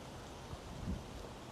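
Steady rainfall with a soft, even hiss that stays faint and continuous, with no voices.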